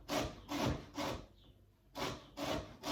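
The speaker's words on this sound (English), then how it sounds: "just keep going until you have grated all of the lemon zest off of your lemon and also the zest from your orange" Lemon and orange zest rasped on the fine side of a grater, five rhythmic scraping strokes in two bursts around a short pause, close and clear with no talking.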